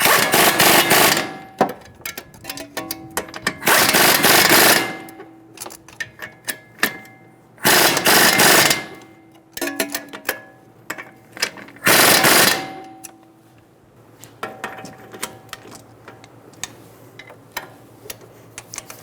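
Power tool snugging down a strut bolt nut on a 2007-2011 Toyota Camry front strut mount, heard as several loud, rapid rattling impact bursts separated by pauses, with faint clinks and a low hum afterward.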